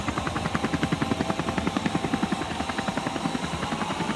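A helicopter filming a mountain bike stage race from above gives a loud, steady rapid rotor thump, evenly pulsing and close, with no voices.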